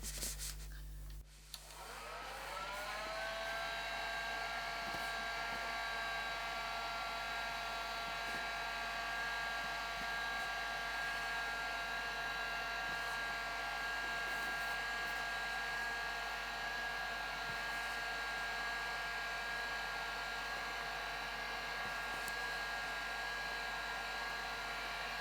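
A heat tool warms a foam seam while a hat is being glued. It starts with a brief clunk, then settles into a loud, steady blowing whir with a constant motor whine that runs on unbroken.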